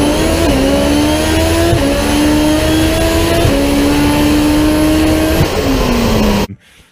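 A Toyota 3S-GTE drag car engine screams near and loud at very high revs past 10,000 RPM, climbing through several rising pitch sweeps with brief dips at each shift before cutting off abruptly.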